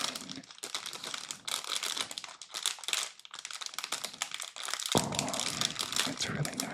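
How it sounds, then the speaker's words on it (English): Cellophane wrapping from a LEGO City F1 Williams set crinkles and crackles up close in dense, irregular bursts, loud and continuous with a brief lull midway and no talking. "I love the sound of cellophane"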